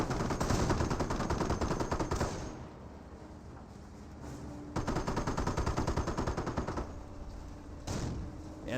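In a Company of Heroes World War II battle, a Greyhound armored car fires on Panzer Grenadiers, heard as long rattling bursts of machine-gun fire broken by brief lulls, dense and continuous.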